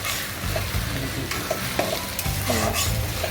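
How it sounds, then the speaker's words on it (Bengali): Spice paste of onion, garlic and ginger paste is stirred in a frying pan, with a spoon scraping and clinking against the pan over a steady sizzle and no voices. "মশলাটা আরেকটু নেড়ে ফেলে দেবো"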